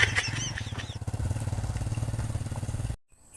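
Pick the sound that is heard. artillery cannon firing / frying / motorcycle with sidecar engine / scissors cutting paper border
motorcycle with sidecar engine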